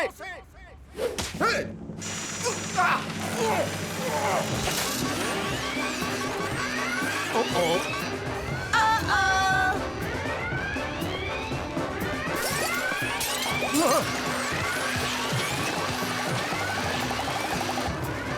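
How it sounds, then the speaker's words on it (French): A runaway assembly line clatters and whips along in a chaotic wash of repeated cracks, crashes and whooshing mechanical noise, loud and continuous after a brief opening. "La chaîne de montage s'est emballée, je dois l'arrêter!"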